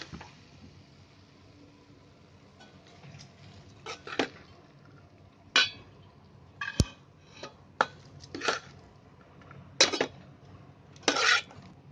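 Ridge gourd and moong bhaji served out of a pan, a string of sharp metallic spoon scrapes and clinks against the cookware, irregular and close, with quiet gaps between strokes.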